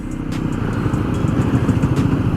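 A Honda CB 300F motorcycle engine pulls steadily in fourth gear, a loud, close, throbbing exhaust note with faint clattering ticks on top and no voices.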